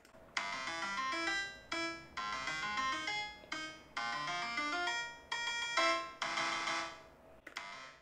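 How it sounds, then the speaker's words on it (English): The Super Mario Bros level-complete tune is played as bright, bell-like synthesized notes from a music-making program, arranged in short rhythmic phrases that climb and end in a final held chord, clean with no talk. "when Mario or any of your characters beat a level, you typically hear a song that sounds like this"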